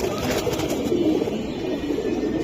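Soft cooing from a silver giribaz pigeon, low murmuring calls close by amid a busy pigeon market with faint background chatter.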